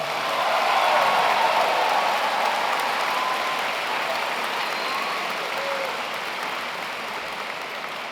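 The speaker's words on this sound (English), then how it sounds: "We should give them a big round of applause." A large audience at the Science Olympiad National Tournament awards ceremony gives a big round of applause, dense and sustained, peaking early and then easing slightly while staying full throughout.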